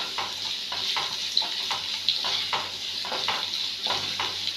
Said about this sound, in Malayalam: ഞാൻ നല്ലപോലെ വഴറ്റും കേട്ടോ ഉള്ളി